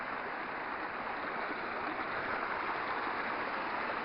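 Water runs over a roadside waterfall in rural Scotland, a steady unbroken rushing hiss heard at moderate distance with no voices.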